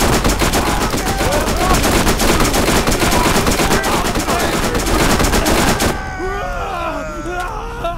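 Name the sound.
gunfire from a gun in a video game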